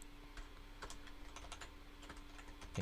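Quiet, steady keystrokes on a computer keyboard with irregular clicks, heard close over a low constant hum and no talking.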